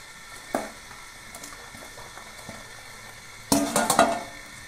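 Fish pieces dropped into a pan of sizzling pumpkin curry: a soft clink early, quiet bubbling, then a sudden burst of loud spitting sizzle near the end that crackles and fades.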